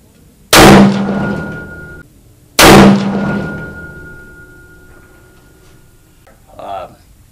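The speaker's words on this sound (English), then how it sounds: "If I'm shooting bullets through bullets" Two sharp, loud rifle shots about two seconds apart, each with a long ringing decay, fired at a target 1000 yards away outdoors; a faint thud follows near the end.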